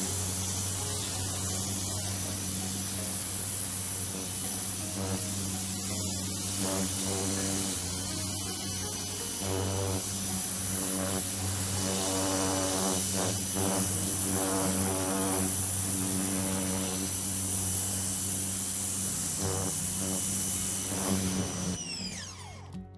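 A Ryobi 2000 PSI electric pressure washer (model RY142022VNM, 1.2 GPM) blasts winter grime and growth off a wet, shaded surface, giving a steady, loud hissing spray with a constant motor hum throughout, fading at the end.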